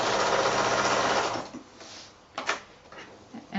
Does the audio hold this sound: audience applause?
no